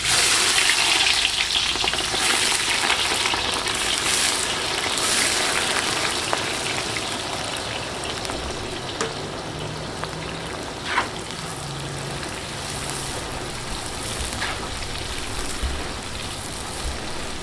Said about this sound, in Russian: Забрасываем лук, обжариваем, постоянно помешивая до золотистой корочки.